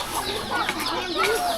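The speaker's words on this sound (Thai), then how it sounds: "เสียงเป็ดเสียงไก่" Chickens in a rural village in the evening give brief, close clucks and squawks, with other fowl sounds mixed in.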